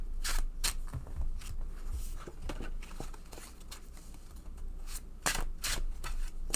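Slippery gold-edged tarot cards being shuffled by hand, close by, with soft sliding rubs and irregular light card flicks and taps spread across the stretch.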